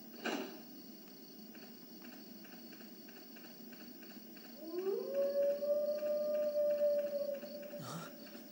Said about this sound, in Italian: Un lupo!